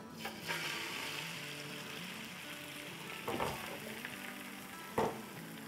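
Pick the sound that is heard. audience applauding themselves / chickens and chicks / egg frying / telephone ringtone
egg frying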